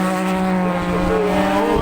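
Superbikes screaming around Kirkistown circuit in Northern Ireland on the last lap of a race, a loud sustained high-revving engine howl with shifting pitch, no talking.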